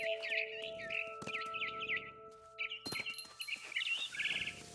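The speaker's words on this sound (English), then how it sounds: "Then I heard chirping outside my window." Barn swallow chirping in the What Remains of Edith Finch video game, quick twittering bursts repeating through the scene, close and clear over a soft musical hum.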